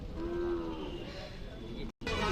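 A cow lows with a drawn-out tonal call at a Khillar cattle market in Sangola, set against a busy, noisy crowd; the background briefly cuts out near the end.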